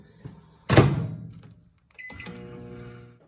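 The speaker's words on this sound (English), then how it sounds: "I'm going to just put it in the microwave for a few seconds." A heavy thunk like a door shutting, a few high electronic beeps, then a steady low mechanical hum of a microwave oven running.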